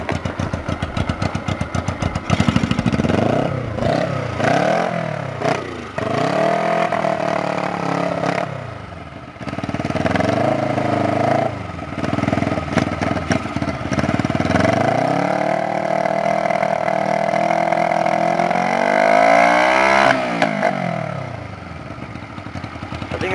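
Honda CB125 motorcycle with chopped exhaust pipes runs loud and close, its engine idling roughly and revving up and down repeatedly in a raspy, uneven rhythm throughout.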